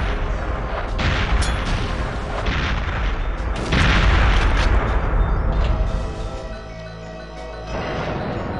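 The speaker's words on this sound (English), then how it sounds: "Ready some grenades to throw in there." Grenade explosions in the video game Perfect Dark (1964 mod), heard as dense, loud, continuous booming blasts and rumbling gunfire-like bursts that swell around the middle and ease off toward the end, with no speech.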